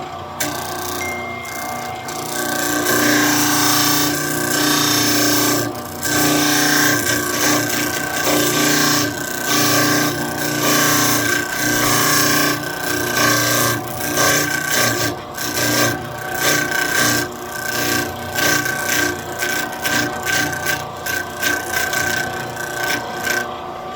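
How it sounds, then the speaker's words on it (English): An electric sander smoothing a two-inch wooden wheel, a loud close grinding rasp with a motor drone underneath, its texture pulsing and catching irregularly as the wood is worked. "Slide it on there, turn the sander on."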